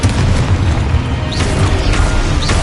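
A Confringo blast spell explodes in Hogwarts Legacy during PS5 combat, a loud booming burst with crackling debris amid dense battle noise over a couple of seconds.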